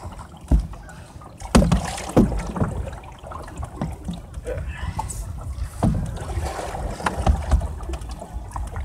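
Canoe paddles dip and pull through lake water in slow, uneven strokes, with soft splashes and light wind noise nearby.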